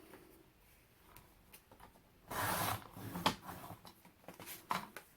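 Paper being trimmed on a small cutter while making a mini folio journal: a soft rub at first, then a louder sustained scraping slide of the blade, followed by a few sharp ticks and taps nearby.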